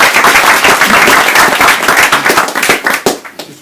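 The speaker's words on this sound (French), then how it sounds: "vous pouvez l'applaudir si vous voulez." An audience bursts into applause, loud and close at first, a dense clapping that thins toward the end into scattered individual claps over a few seconds.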